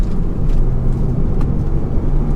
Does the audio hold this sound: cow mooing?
no